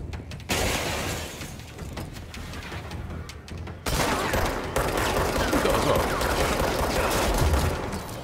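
Gunfire in the action video game Control, with sustained bursts of shots and impacts that get louder partway through, set against game sound.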